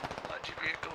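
Rapid bursts of machine gun fire in a military shooter game set in a Logar Valley firefight, a quick rattling string of shots lasting about a second, loud and close.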